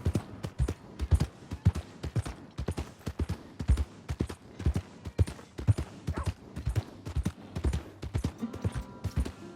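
Rhythmic clip-clop of horse hooves trotting steadily in the video game Red Dead Redemption 2, a regular sequence of sharp knocks with no voices.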